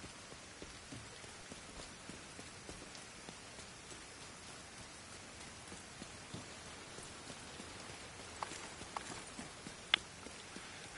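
Steady rain patters on surfaces in a video game, a faint, even hiss of drops lasting throughout with a few sharper drips near the end.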